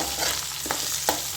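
Ingredients for North Karnataka hasi kara chutney fry in a pan with a steady close hiss, broken by a few sharp scraping stirs of a spatula, with no talking.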